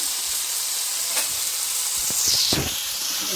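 Brinjal sautéing in a pan with salt and turmeric gives a steady close sizzle, with a few brief stirring scrapes near the end.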